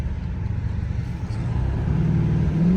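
Exhaust of a Dodge Charger Hellcat with a mid muffler delete, a loud, continuous low rumble that swells steadily as the car drives, with no voices over it.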